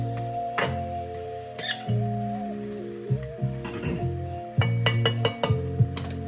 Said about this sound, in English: Just stir it up real easy, you know.